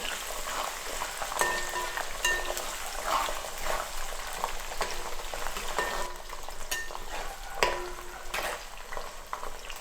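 Garlic, 200 grams of it, sautéing in a pan for a large batch of Kerala mango pickle, giving a steady oily sizzle with occasional stirring scrapes throughout, close and moderately loud, with no talking.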